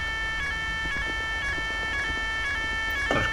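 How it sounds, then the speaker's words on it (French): A hospital siren in a GTA roleplay video game wails in a steady repeating cycle of about two pulses per second, sounding moderately distant over a low background rumble. "Il y a la sirène qui s'est mise en route au CHU."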